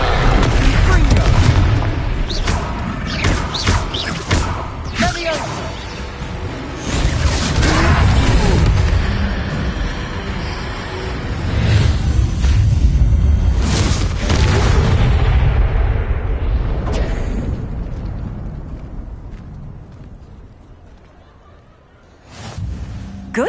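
Confringo fire spells burst repeatedly in a Hogwarts video game battle, loud booming explosions piling up in dense clusters over continuous game noise, with a voice speaking briefly among the blasts.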